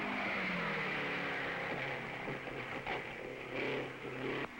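Race cars roaring down the stretch at the 1954 Indianapolis 500, a loud continuous engine drone with pitch shifts as cars pass, heard from trackside without talk.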